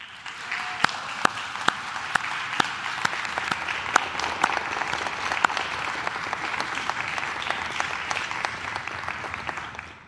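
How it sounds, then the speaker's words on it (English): Medical school graduates at a commencement ceremony applauding their family and friends, a sustained even round of clapping from a large crowd with a few sharper individual claps standing out near the front. "give a round of applause to your family and friends to thank them once again for their love and support"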